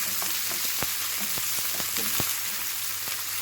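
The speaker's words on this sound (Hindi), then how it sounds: "इसके साथ ही हम ये प्याज ऐड कर देंगे। इन्हें भी डालकर हमें अच्छी तरह से ब्राउन कर लेना।" Onions added to potatoes browning in a hot pan give a steady, close frying hiss with scattered sharp crackles and pops throughout.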